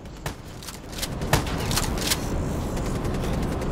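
Shotgun and other gunfire in the video game Call of Duty Black Ops 3, sharp close blasts at irregular intervals over a dense backdrop of continuous battle noise.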